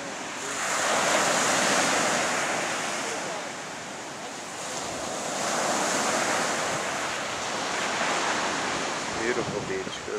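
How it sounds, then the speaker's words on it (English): Ocean surf rolls steadily onto a long beach on a backpacking trek, a loud, continuous wash of breaking waves that swells and eases in slow surges, with wind buffeting the microphone. "Beautiful beach goes on, I don't even know how far."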